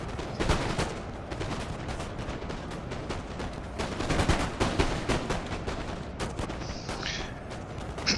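Musket gunfire in a battle in the video game Napoleon: Total War: dense, continuous crackling volleys and overlapping shots, loud and steady throughout, with heavier bursts partway through.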